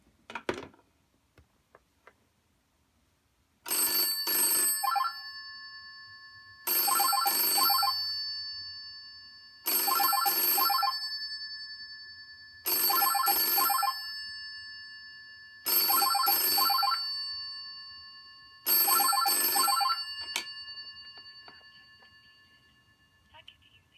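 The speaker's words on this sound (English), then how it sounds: "So this is what the ringer sounds like" A 1963 GPO 706 rotary dial telephone in Concord blue rings loud and close in six evenly spaced double-burst bell peals, each with a short metallic decay. Brief clicks come before the first ring.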